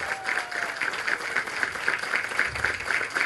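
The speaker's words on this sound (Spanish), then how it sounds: "Un aplauso a la gobernadora que nos cumplió." An outdoor crowd at the reopening of a renovated park in Yotoco gives the governor a round of applause, steady moderate clapping rolling on without pause.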